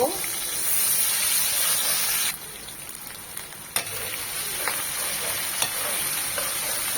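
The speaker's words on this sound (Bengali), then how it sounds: "আদাটাকে এক মিনিট ভেজে নেব" Ginger-garlic paste frying in oil in a pan with chopped garlic already browned, a steady bright sizzle and hiss with stirring scrapes, dropping quieter partway through, while someone talks faintly over it.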